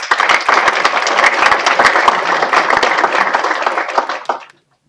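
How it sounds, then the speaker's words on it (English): Applause breaks out for Kendall, a SkillsUSA president and advisory board vice president, at a scholarship event: dense, loud clapping from a crowd that holds steady for about four seconds, then stops abruptly. "Let's give a big round of applause for Kendall"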